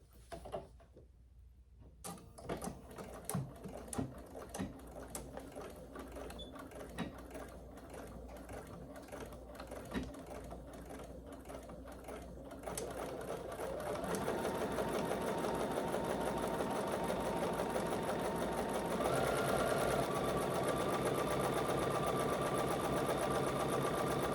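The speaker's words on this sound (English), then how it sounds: "I'm just going to do my top stitching on my handle" A sewing machine top stitches a fabric bag handle. It runs in steady bursts of rapid needle clatter, close and loud, then settles into a continuous faster whir for the second half, with no talking.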